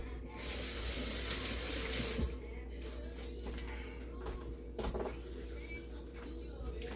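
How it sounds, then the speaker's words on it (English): Hands rinsed under a running kitchen tap: a loud, steady rush of water for about two seconds, then quieter clinks and handling noises nearby, no talk. "Rinse my hands."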